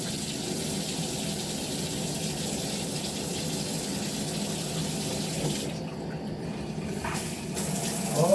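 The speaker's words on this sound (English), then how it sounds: "Let's turn the tub on." Bathtub tap gushing water through a newly fitted filtered shower head, a steady broadband rush close by that continues throughout with slight shifts near the end.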